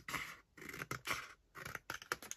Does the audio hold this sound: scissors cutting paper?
yes